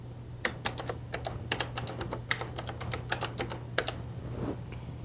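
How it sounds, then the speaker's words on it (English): Rapid, uneven keystrokes tap on a computer keyboard, a close run of crisp clicks in quick clusters with short pauses, over a faint low hum and no voices. "you can replace it by just typing the new information."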